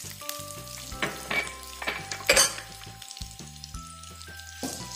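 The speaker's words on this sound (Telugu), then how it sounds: "ఒక ఉల్లిపాయ బారుగా సన్నగా తరుక్కున్నామండి ఇది వేసుకుందాం" Thinly sliced onion drops into hot oil with curry leaves, giving a steady sizzle with sharp bursts, while a spoon scrapes and clinks against the pan in irregular strokes, close up and with no talking.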